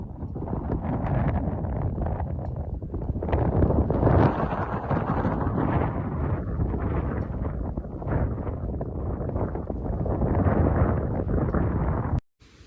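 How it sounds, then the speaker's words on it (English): Strong gusts of wind buffet the microphone at an outdoor mine site, a continuous roaring rumble that swells and eases for about twelve seconds before cutting off abruptly near the end. "It is pretty windy out here right now"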